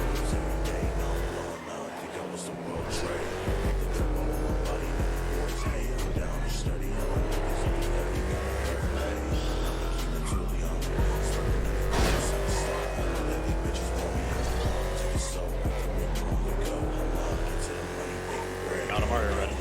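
Car tires squeal and a revving engine during drifting in GTA V: a continuous loud engine drone with rising and falling pitch and screeching tire tones, and someone talking over it.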